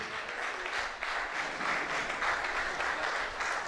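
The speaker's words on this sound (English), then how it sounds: "I think he wants a round of applause and a standing ovation" A crowd at a polytechnic staff association workshop gives a round of applause, steady many-handed clapping that sounds somewhat distant and soft, continuing evenly without speech.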